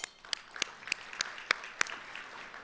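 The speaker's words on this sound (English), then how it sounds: "You should give yourselves a round of applause." Sparse applause from an audience at an economic forecast event, a few scattered claps spaced out over a quiet room rather than a full ovation, fairly faint and distant.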